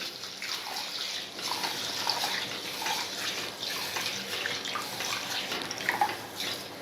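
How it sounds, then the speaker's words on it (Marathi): Water splashes and swishes steadily as moth beans are rinsed in a basin, a close, continuous wet sloshing with no voices. "स्वच्छ पाण्याने दोन तीन वेळा असं धुवून घ्यायचे"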